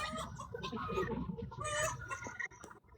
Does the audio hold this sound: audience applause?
no